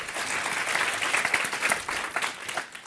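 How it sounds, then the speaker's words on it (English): Conference audience applauding after a talk, dense, lively clapping from many hands, close and sustained with a slight swell in the middle and easing toward the end. "Round of applause for Justine."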